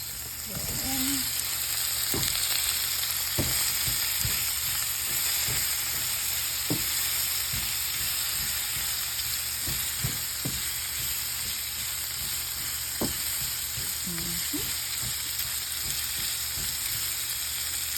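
Quail eggs frying in coconut oil in a pan: a steady, close sizzle and hiss runs throughout, with scattered light taps and scrapes of a utensil over it.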